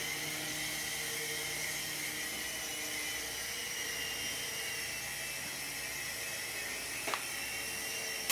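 An HX 721 mini toy helicopter flies indoors, giving a steady high-pitched whine and buzz that holds level throughout, close by, with a small click near the end.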